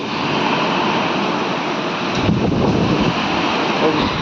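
Strong wind roars steadily with loud buffeting against the microphone, a broad rushing noise like surf, with no clear voices.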